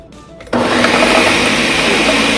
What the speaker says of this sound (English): Pour into the blender or use your immersion blender directly in your pot.